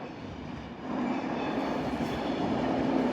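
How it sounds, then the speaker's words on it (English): An Avanti West Coast Pendolino, unit 390-104, pulling into London Euston on a snowy day, its steady rumble and rail noise building gradually from a moderate distance. "Pulling in over there is an Avanti West Coast Pendolino."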